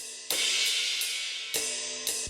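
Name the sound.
live recorded crash cymbals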